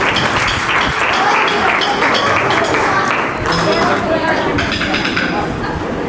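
Audience at a Jain Dharma Natika stage performance for Daslakshana 2025 clapping steadily for the dancing children, a dense continuous wash of applause with a brief dip partway through, loud and close.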